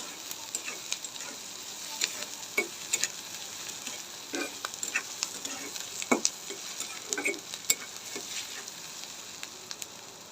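Chopped garlic and ginger sizzling in hot oil for Bengali egg chops, a soft continuous frying hiss broken by frequent spatters and spoon stirring, close and fairly quiet throughout, with no talking.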